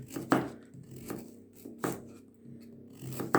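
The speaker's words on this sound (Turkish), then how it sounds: "Havucumu da ince ince doğrayacağım arkadaşlar." Knife chopping carrots on a board, several sharp crisp strikes at an uneven pace, close up, with a low background hum.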